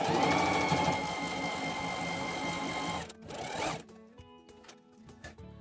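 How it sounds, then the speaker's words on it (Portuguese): A sewing machine stitches a French seam in fabric, running loud and steady for about three seconds before slowing into short, separate bursts of stitching, close up. "você coloca o pé da máquina. E aqui que a gente vai dar início à costura até o final"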